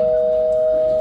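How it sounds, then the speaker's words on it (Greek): A doorbell rings during a stage play performance, one steady electric two-tone buzz sustained loud and close throughout, with nothing else prominent. "Το κουδούνι."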